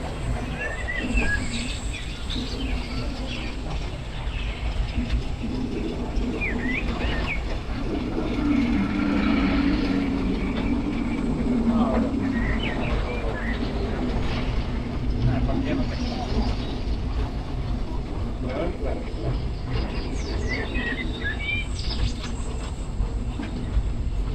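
Continuous rumble and clatter of the Big Thunder Mountain Railroad mine train coaster at Disneyland rolling along its track, with muffled crowd voices and occasional screams throughout.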